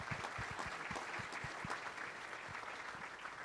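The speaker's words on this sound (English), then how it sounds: "Would you give them a round of applause" A breakfast-club audience in Memphis gives volunteers a round of applause, a fairly quiet, steady patter of many hands clapping with a few louder close claps standing out.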